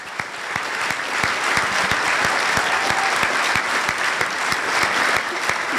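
An audience applauds at a Rotary awards luncheon for the Seattle Fire Department, a steady round of clapping from a room full of people that holds at an even level for several seconds.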